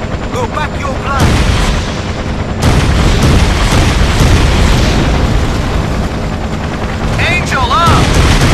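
Gunfire and explosions in the PS2 video game Battlefield 2 Modern Combat: a dense, loud roar of continuous shooting and booming blasts, with a helicopter-like drone underneath and voices calling out over the din.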